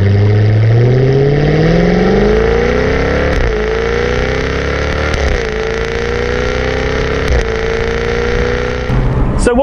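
A Jaguar Project car engine revs hard while accelerating on the road, its pitch climbing in a loud, continuous roar with brief dips at gear changes, up close and with no one speaking.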